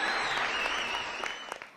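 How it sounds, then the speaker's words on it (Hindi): An audience applauds a dancer selected in a televised dance competition round, a bright continuous burst of clapping that gradually thins and fades toward the end. "सावी के लिए जोरदार तालियां हो जाए।"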